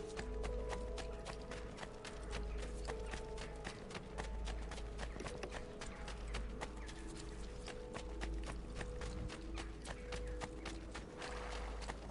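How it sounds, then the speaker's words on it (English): Horse hooves gallop in Assassin's Creed 2 as a rapid, steady clip-clop that repeats throughout, set over a constant low rumble and a faint game soundtrack. "Let's run this way and get ourselves a horse."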